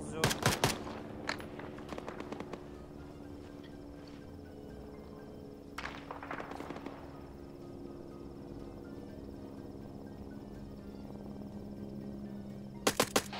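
Arma 3 video game gunfire: short bursts of distant automatic shots crack out in several separate volleys over a steady ambient hum with faint insect-like chirping.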